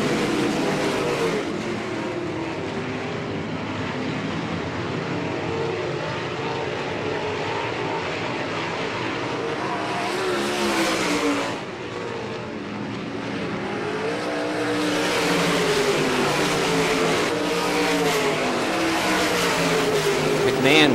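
Race cars roar around the track during a Great Lakes Thunder race, a loud continuous engine drone with rising and falling pitch as cars pass close by; a commentator talks over the racing.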